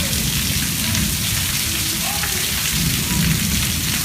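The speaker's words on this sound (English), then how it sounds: "I freaking love the rain." Heavy rain pours down steadily during a thunderstorm, a loud, dense hiss of drops on surfaces with low rumbling underneath, continuous and close throughout with no voices.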